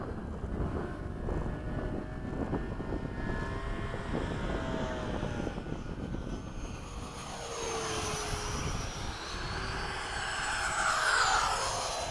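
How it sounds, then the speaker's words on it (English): A radio-controlled model jet, such as a 70mm F-16, 80mm BAE Hawk or 80mm Avanti S ducted-fan aircraft, makes a low, medium-speed pass over a runway, its steady whine and rush swelling toward the end as it passes close. "So I'm gonna do a low and somewhat medium speed slow over the runway."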